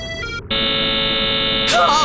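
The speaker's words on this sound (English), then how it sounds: "Extremely loud noise that sounded like a buzzer exploded from the speakers" A harsh electronic buzz bursts from a phone in the visual novel Chaos;Head Noah, a steady loud tonal drone lasting about two seconds after a brief lower hum, ending with a rising warble.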